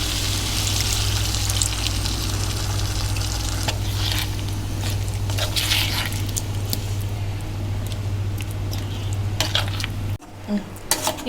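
Water is poured into a pan of chicken curry masala and stirred, a steady wet sizzling and scraping that runs continuously and close up, ending with a brief quieter stretch and a few light clinks.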